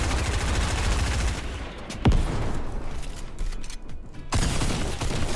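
Fortnite Battle Royale gunfire crackles in fast, dense bursts, with a sharper single shot midway and the firing thinning out before a final loud burst.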